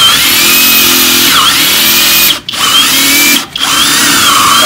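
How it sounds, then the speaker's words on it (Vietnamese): A FLEX 24V FX1271T cordless drill runs loud and close as it bores, holding a steady high whine that briefly drops out twice. "tiếp tục khoan vài mũi nữa cho mọi người xem nha"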